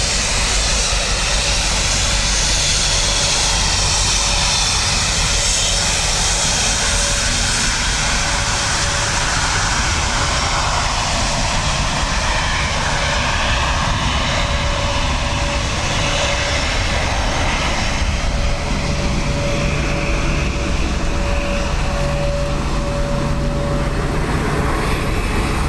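An Air Transat jet airliner roars loudly and continuously at Dublin Airport in windy, wet weather, a steady close engine drone with a faint whine running through it.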